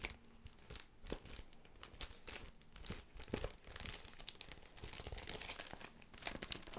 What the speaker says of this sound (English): So these are self-adhesive. You just peel and stick.